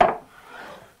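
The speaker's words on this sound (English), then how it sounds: "Just going to give it a light tap. Tap the wedge." A light tap lands on the wooden wedge of a toothing plane: one crisp, close knock that fades quickly into a brief, soft woody resonance.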